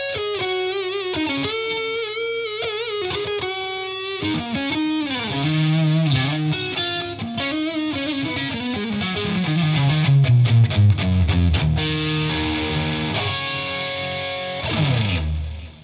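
An Enya Inspire electric guitar is played through distortion, with sustained, buzzing chords and bending single-note lines ringing loud and close with no voice.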